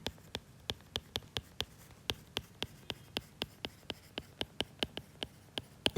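Sharp, evenly spaced taps and strokes of writing on a board during a physics lesson, a quick regular rhythm over a quiet room.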